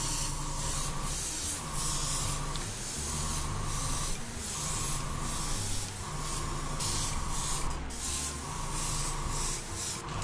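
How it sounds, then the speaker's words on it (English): Airbrush spraying color paint onto a prop kit, heard as a close, continuous airy hiss that swells and eases in repeated bursts of roughly a second each, with a faint compressor hum underneath. "So I've got just my airbrush with color, and we're just going to go nuts with it."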